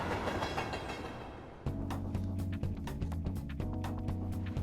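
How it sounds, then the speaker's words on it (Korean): A commuter train passes in the video game Persona 5, with a rushing rumble that gives way to rhythmic clickety-clack wheel beats over a soft musical hum. "네, 전철이 지나가네요."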